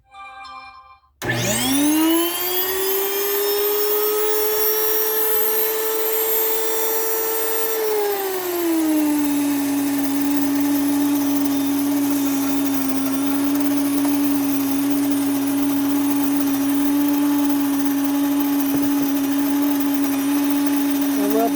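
A blade-type electric grain mill grinding grain for fresh tortillas switches on with a sudden loud high whine. The whine holds, then drops to a lower steady pitch as the grain breaks down, staying loud and continuous.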